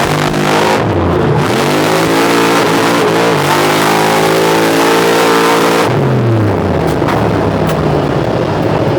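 A drag race car at a grudge match event does a burnout and revs hard, a loud sustained engine roar with rising and falling revs filling the whole stretch.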